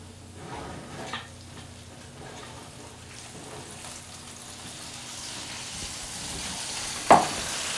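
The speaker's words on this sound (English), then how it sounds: "Can you hear that sizzling sound?" A stuffed pork loin roast sizzles in its pan in a home kitchen, giving a steady close hiss with a brief clatter near the start and a sharper knock toward the end. No one speaks.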